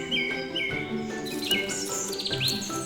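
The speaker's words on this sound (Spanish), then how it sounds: "Es el sonido del industrioso pájaro carpintero" A woodpecker in an old forest gives a series of sharp, bright chirping calls, several in quick succession, fairly close and clear.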